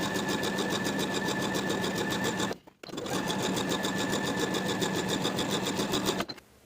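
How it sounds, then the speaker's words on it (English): A sewing machine top stitches a seam allowance across a sweatshirt bodice, running in a steady fast whir with a buzzing rhythm, close and loud, stopping briefly partway through and again at the end. "we're going to top stitch that seam allowance in place, from one side seam to the other with a 1/4 inch seam allowance"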